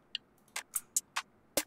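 A hi-hat loop sliced in FL Studio's SliceX plays back in time: six short, bright, crisp hits at uneven spacing across under two seconds, alone and fairly quiet.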